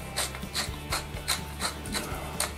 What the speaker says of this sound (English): a good pepper mill